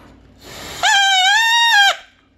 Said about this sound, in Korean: 아주 큰 소리가 나는 이 부부젤라를 한번 만들어 보세요.